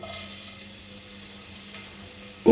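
Chopped garlic fries in ghee in a pan, making a soft, steady sizzling hiss close by at fairly low volume, ending in a sudden knock.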